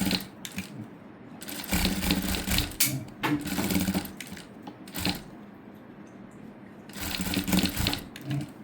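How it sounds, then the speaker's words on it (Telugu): A sewing machine stitches a cutwork blouse in several loud, close bursts of rapid whirring and clatter, separated by short pauses. "స్టిచ్ చేసుకోవాలి పైన"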